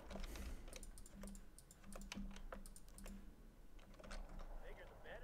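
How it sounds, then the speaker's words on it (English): Rapid computer keyboard typing and clicking during a live PC session of Wargame: Red Dragon, with a dense, close run of keystrokes and a voice talking faintly underneath. "Still hear the clicking though."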